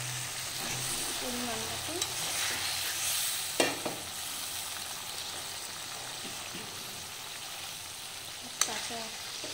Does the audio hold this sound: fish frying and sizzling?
yes